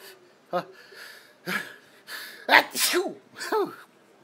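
A series of sharp sneezes and snorting breaths in close succession, loud and close, each a quick burst with breathy intakes between.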